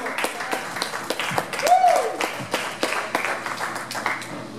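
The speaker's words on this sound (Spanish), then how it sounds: "Dale un aplauso fuerte al Señor." A church congregation at a Pentecost service applauds, scattered sharp claps forming a loose, moderately loud ovation that continues throughout, with a voice briefly heard among them.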